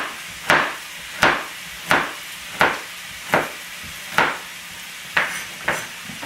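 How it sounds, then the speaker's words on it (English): A knife chopping carrot on a cutting board in a home kitchen, eight or so sharp, evenly spaced knocks roughly every three-quarters of a second, close and clear with quiet gaps between strokes. "You can use the same knife that you did for your onion, as well as board, and you can chop that."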